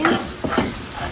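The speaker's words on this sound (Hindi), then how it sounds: "ये खीर बन रही है, अभी दूध पक रहा है" A spoon stirs simmering milk for kheer in a pot, with short scraping strokes and a soft bubbling hiss, close and alone.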